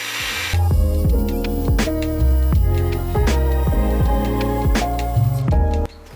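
A Revolt cordless angle grinder whines loudly and steadily at high speed, with repeated pitch shifts and clicks as its speed settings change, then cuts off abruptly near the end.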